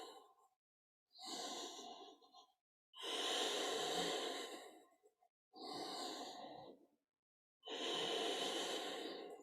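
Slow, deep breathing held through a yoga pose, several long inhales and exhales in a steady rhythm with short silent gaps, close and fairly loud.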